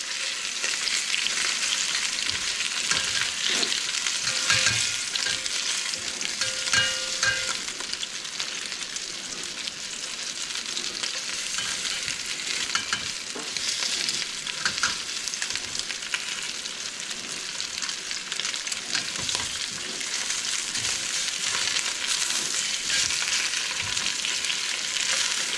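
Oxtail sears and browns in a hot pan for Cuban rabo encendido, a steady, dense sizzle with crackling spits that holds at an even, fairly loud level throughout, with no voices.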